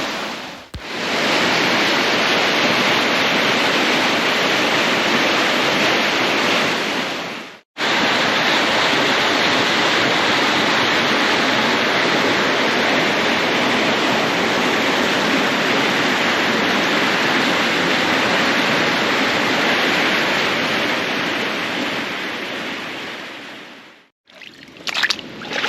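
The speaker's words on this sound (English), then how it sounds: "I just love walking by gushing water." Gushing stream water roars steadily on a stormy walk in Wellington, a dense, loud broadband rush that fills the whole stretch with only brief drops near the start, middle and end.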